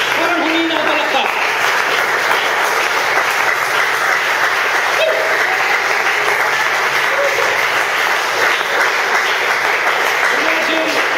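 A church congregation claps together through the whole stretch, a dense, steady wash of applause in a large room that keeps an even level from start to finish.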